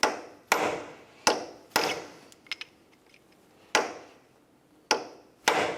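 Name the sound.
hammer and punch peening axle nut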